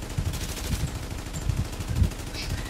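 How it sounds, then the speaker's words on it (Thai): AI enemies fire automatic weapons in the Dark Zone of The Division, a rapid string of muffled, low gunshots that thud on and off from a short distance. "เฮ้ยมีคนยิงอ๋อ AI"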